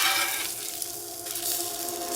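Sausage patties sizzle steadily in a frying pan, a continuous close crackling hiss without pause and with no voices.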